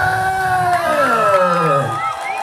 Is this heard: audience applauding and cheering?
yes